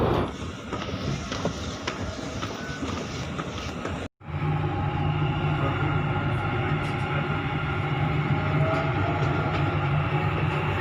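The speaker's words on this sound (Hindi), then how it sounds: "मैं जा रहा हूँ मेट्रो से, मुझे कहीं जाना है तो आप मेट्रो का एंजॉय करें" Riding inside a Dubai Metro train, with a steady loud rumbling hum of the carriage and a faint rattling, briefly cut by a short dropout, then a lower droning tone continues.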